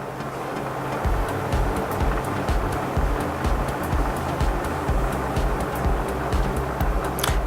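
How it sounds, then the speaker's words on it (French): Wort boils in a Grainfather home-brewing system, a steady rolling bubble and churn with low rumbling surges and light crackling pops throughout, close and continuous. "Comme vous pouvez voir, là, ça bouille."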